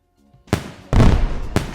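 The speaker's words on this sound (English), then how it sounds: "Fireworks. Fireworks. Fireworks." Fireworks bursting in three sharp, loud booms, the middle one followed by a longer crackling rumble, with no talking.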